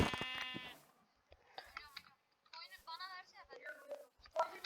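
A Minecraft sheep bleats a few times in short wavering calls, with a speaking voice at the start and quiet gaps between.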